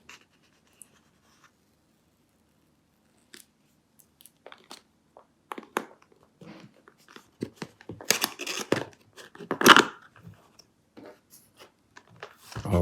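Cardboard box packaging for a DJI Osmo Mobile 7 smartphone gimbal being opened, with scattered scraping, tearing and crinkling rustles that start sparse and grow busier and louder, peaking in one sharp rip near the end.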